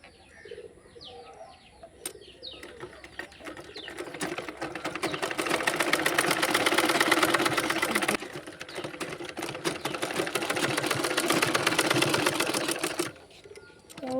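Sewing machine stitching cloth pieces together, a fast, even mechanical rattle that runs in two long stretches separated by a short pause, with birds cooing and chirping nearby at the start and end.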